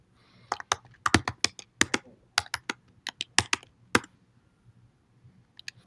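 Fingers typing a message on a computer keyboard, a close series of crisp irregular key clicks in quick bursts, then a pause and a few final taps near the end, with no talking.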